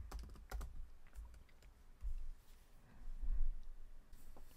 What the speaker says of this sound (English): So just typing in my search criteria